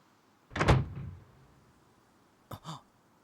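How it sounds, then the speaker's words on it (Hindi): A door swings open in an animated mystery series scene: a heavy, close thud with a fading rumble, followed a couple of seconds later by two quick latch-like clicks, with no voices. "दरवाजा खुला हुआ है।"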